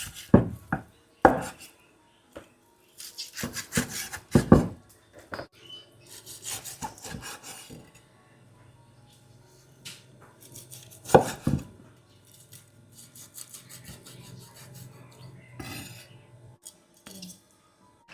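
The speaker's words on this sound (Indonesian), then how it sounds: "Sekarang saya mau potong." A knife chops boiled pork face meat into small pieces on a board, with irregular bursts of sharp close thuds and scraping, separated by pauses.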